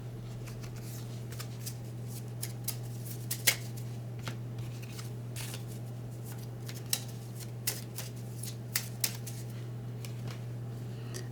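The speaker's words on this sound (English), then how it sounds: "Very light shuffle." Light, soft shuffling of tarot cards with small crisp riffles and flicks, close by, over a steady low electrical hum.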